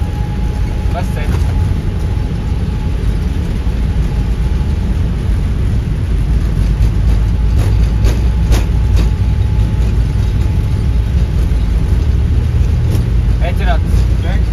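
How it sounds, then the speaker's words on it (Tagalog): Aircraft engines roar during takeoff, a loud, steady, dense rumble that holds throughout with a sustained tonal whine riding on top, while voices murmur faintly beneath. "Watch muna natin ang takeoff"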